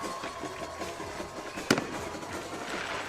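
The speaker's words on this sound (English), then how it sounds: "And we've got fireworks coming." Fireworks at a high school football semifinal playoff game go off with one sharp, loud bang midway, followed by short crackling, over a steady roar of crowd and stadium noise.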